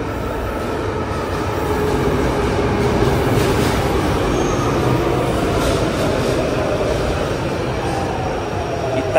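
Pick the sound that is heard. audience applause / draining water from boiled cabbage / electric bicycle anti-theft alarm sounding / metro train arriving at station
metro train arriving at station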